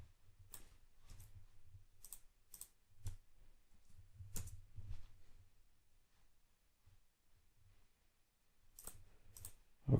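Short bursts of computer keyboard typing and mouse-like clicks, sharp and close, separated by quiet gaps, with no one speaking.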